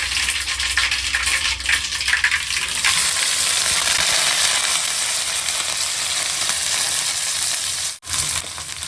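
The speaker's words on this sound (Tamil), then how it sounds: "வெங்காயம் பொரிஞ்சுன்னு இருக்கு வெங்காயமும் கருப்புலையும் போட்டு போகிறேன்" Sliced onion and curry leaves frying in hot oil in a home kitchen, a loud continuous crackling sizzle close by, busiest in the first few seconds and then holding steady with a brief dropout near the end.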